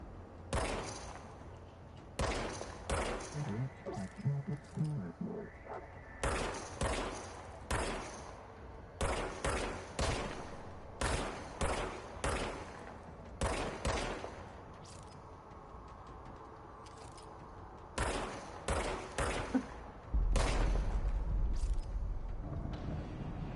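Repeated gunfire from the service weapon in the video game Control, sharp shots in irregular bursts and clusters across the span, fairly close and loud, with a heavier rumbling stretch near the end.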